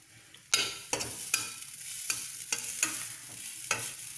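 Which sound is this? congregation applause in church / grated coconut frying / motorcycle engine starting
grated coconut frying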